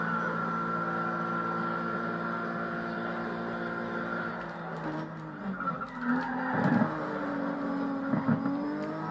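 A fast car's engine races steadily in Need for Speed ProStreet, holding a sustained drone with shifting pitch, then roughening and surging with bursts near the end, with no talking.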